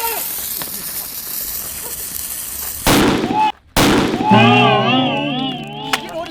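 A sharp, loud tank explosion bursts out from a game, followed by a brief dropout, then voices and a melodic tune.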